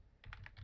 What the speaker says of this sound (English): So we're going to start off by typing item